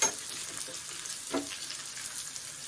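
Tempering for mor kuzhambu fries in hot oil with a soft, steady sizzle and faint crackles, heard close and quiet with one small stir or pop partway through.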